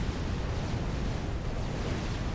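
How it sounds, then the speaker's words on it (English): Valiant boats firing their cannons in a Supreme Commander: Forged Alliance Forever naval battle, heard as a continuous rumbling wash of blasts and booms at steady loudness with no distinct separate shots. "The boats keep on firing, those Valiants getting their great cannon DPS off."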